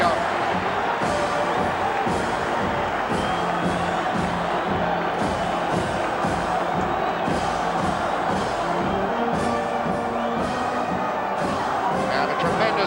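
A large football crowd at Hampden stadium for a Northern Ireland versus Scotland match, a steady dense roar of many voices with scattered shouts, while a commentator talks over it.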